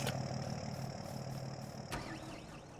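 A tractor engine in a farming video game drones steadily at medium pitch, idling with a constant hum and a faint whine above it.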